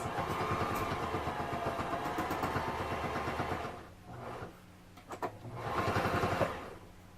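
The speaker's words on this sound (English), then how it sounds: "sewing that, like, little hole up" A sewing machine stitches up a small hole in a handmade tarot wrap bag, running in a steady rapid whir for several seconds, pausing briefly, then starting again with a short backstitch burst.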